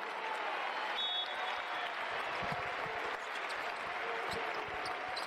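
A home crowd at a EuroLeague Women basketball game between Virtus Segafredo Bologna and Cukurova Mersin cheers and applauds in a steady, distant roar, with a ball bouncing on the court beneath it.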